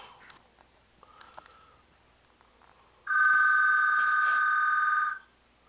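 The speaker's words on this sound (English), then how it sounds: "And the telephone's ringing." A home telephone rings once in a quiet room, a loud, steady electronic trill lasting about two seconds that cuts in abruptly and stops sharply, preceded by faint handling noises.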